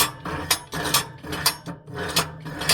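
A metal scraper is worked back and forth over the heat exchanger tubes of a pellet stove, making a steady run of rhythmic rasping, clanking strokes close up, about two per second with no talk.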